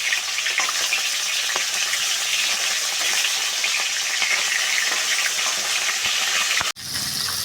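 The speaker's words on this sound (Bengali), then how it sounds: "এখন গরম কড়াইতে সর্ষের তেল গরম করে মাছগুলা ভাজে নেব।" Small chara pona fish frying in hot mustard oil in a wok give a loud, dense, steady sizzle that runs close and continuous, then breaks off sharply near the end and returns a little quieter.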